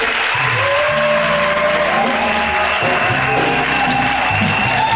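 A church congregation applauding, a loud dense wall of clapping that holds steady throughout, with some voices and a sustained tone mixed in.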